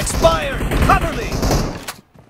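Gunfire in the mobile battle royale game PUBG Mobile, a quick flurry of loud shots and impacts over about two seconds before dropping to near silence, mixed with game effects.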